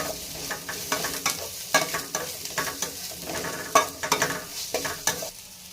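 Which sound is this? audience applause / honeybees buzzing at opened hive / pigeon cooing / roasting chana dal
roasting chana dal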